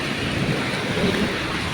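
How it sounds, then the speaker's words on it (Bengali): Heavy rain pours outside on a dark, foggy day, a dense steady hiss with a low rumble beneath, no voices. "ওই বৃষ্টি হইতে আছে"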